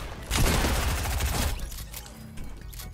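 Close shotgun blasts in Fortnite, a loud cluster of firing at the start that thins into scattered shots and mechanical clicks.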